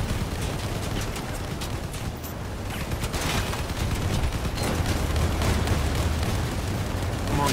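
Dense gunfire from vehicle combat in Crossout: a loud, constant stream of rapid shots and blasts layered over rumbling engines, with faint talk mixed in.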